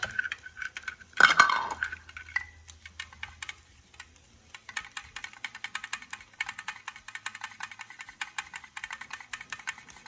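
Almond milk is stirred into ingredients in a bowl for keto haystack cookies, with a spoon scraping and clinking against the sides in quick, steady strokes after a brief louder knock, close and fairly quiet.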